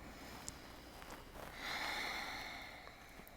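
During a yoga stretch, one deep, slow breath swells softly and fades, faint and close, with a few small clicks around it.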